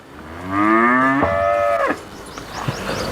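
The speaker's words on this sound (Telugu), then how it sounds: "ఇక్కడ ఇంకొక ఆవు తీసుకొస్తున్నారు" A Holstein Friesian (HF) cow on a dairy farm near Hyderabad gives one long, loud, close moo that rises and then holds for over a second before breaking off, with quiet farm background afterward.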